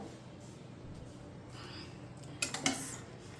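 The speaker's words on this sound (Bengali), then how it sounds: "দিয়ে আমি একটু নাড়াচাড়া দিয়ে ঢেকে রেখে দেবো।" A curry of chicken in a pot is stirred and covered, heard as a soft background hiss followed near the end by a few close clinks and scrapes of a lid or spoon against the pot.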